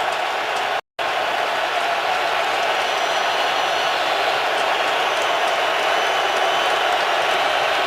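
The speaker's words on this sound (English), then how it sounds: "This crowd's going to get loud again" A stadium crowd at an NFL football game between the Bills and Lions roars in a dense, sustained wash of cheering that swells gradually, with a momentary dropout near the start.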